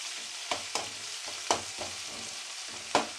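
Ginger garlic paste fries in a pan for a chicken curry, crackling softly as a spoon stirs it. A few sharp clinks and scrapes stand out against the quiet sizzle.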